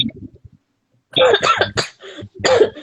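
A few soft sounds, then a burst of harsh, close coughs, several in quick succession with a short pause between them.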